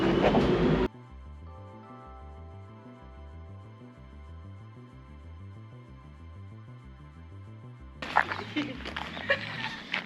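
Steady rhythmic clickety-clack of tram wheels over rail joints in Nuremberg, Germany, a repeating low thumping pattern, with a burst of louder noise at the start and end.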